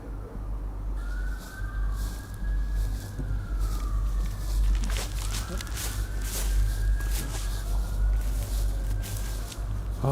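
Police sirens wail faintly in the distance, their rising and falling tones drifting over a steady outdoor rumble and footsteps at an abandoned asylum.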